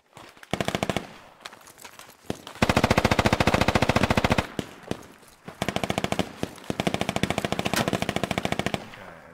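RPK machine gun fire in the tactical shooter game Squad, with long sustained automatic bursts broken by brief pauses, loud and close, without voices.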